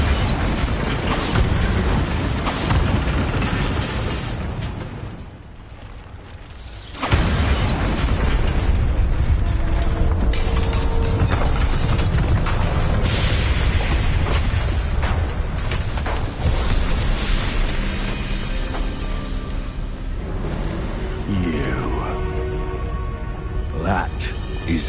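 A Bombarda spell in Hogwarts Legacy bursts with a loud explosive blast, followed by crumbling debris and rumbling game effects, with a brief lull partway through and character dialogue.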